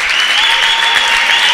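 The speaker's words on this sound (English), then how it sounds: "And a standing ovation from the home crowd here in Watertown." A home crowd at a women's basketball game in Watertown gives a standing ovation for a career 1,000-point milestone, loud, dense, continuous clapping filling the gym.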